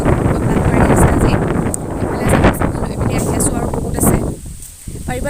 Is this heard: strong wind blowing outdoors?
yes